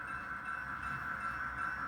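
HO scale model train rolling steadily along the track during a switching session, a continuous even whir with a faint hum, no clicks standing out and no talking.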